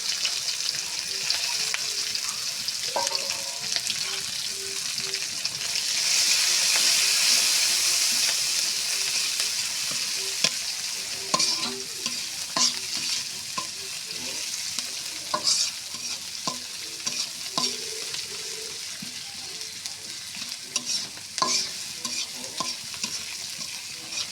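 Chopped onion and torn green chilies fry in a pan with cinnamon, a continuous close sizzle broken by repeated scraping stir strokes and small clatters.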